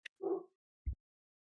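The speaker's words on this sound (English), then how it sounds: "My dogs are barking." A dog barks once in a short burst, then gives a brief low woof moments later, both fairly faint and far off with quiet in between.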